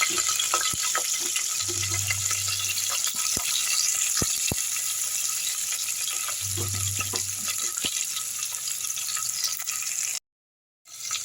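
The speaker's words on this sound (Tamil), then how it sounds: "அடுத்து கருவேப்பிலை போட்டுக்கலாம் பச்சை மிளகா வெங்காயம்" Curry leaves, green chillies and onion fry in a pan for a roadside-style Saidapet vada curry. Steady close sizzling mixes with occasional stirring clicks and scrapes. The sound cuts out briefly near the end, then returns.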